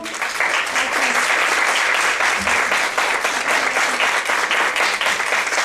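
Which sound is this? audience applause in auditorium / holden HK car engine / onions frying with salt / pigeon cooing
audience applause in auditorium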